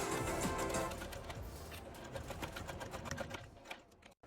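A sewing machine stitches vinyl strap fabric in a rapid, even run of needle strokes, close and fairly quiet, easing off toward the end before stopping.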